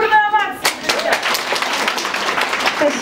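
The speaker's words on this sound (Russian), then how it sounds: "А наши бурные овации" Audience applause at a children's holiday concert, breaking out as a young singer's song ends: the sung note fades, then loud, dense clapping from a crowd fills the rest.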